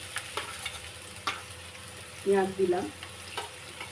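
Sliced onions tossed into hot oil with potato pieces for a tilapia curry, giving a steady close sizzle broken by a few sharp stirring clicks and a louder burst of frying as they land.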